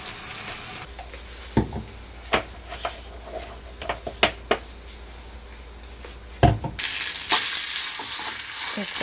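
Sausage frying until crispy in a pan, a steady close sizzle broken by sharp clicks and scrapes of stirring, swelling into a louder, brighter hiss near the end.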